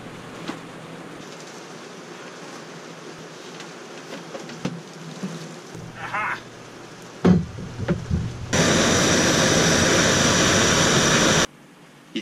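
A propane blowtorch roars steadily inside a boat cabin for a few seconds, loud and close, after scattered small clunks and shuffling sounds, then cuts off abruptly.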